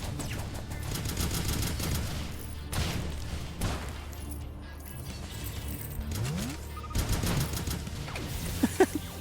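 Missile launchers fire during combat in the Starbound video game, a loud, dense barrage of bursts, thuds and mechanical clatter with short pauses and rising whistling tones near the end.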